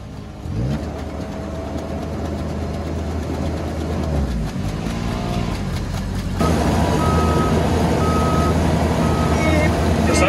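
A 2020 Land Rover Defender 4x4 reversing in water, its engine droning steadily with regular reversing beeps sounding near the end, while people talk over it.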